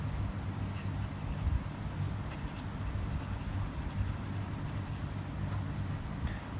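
A Jinhao 159 fountain pen with a broad nib scratches across paper in a continuous soft, close writing sound with slight rhythmic strokes and no speech.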